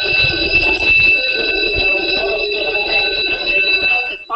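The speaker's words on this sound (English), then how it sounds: "the fire alarm is pulled." A fire alarm pulled during a crowded indoor discussion rings as a loud, continuous high-pitched bell, steady throughout with a murmuring crowd underneath.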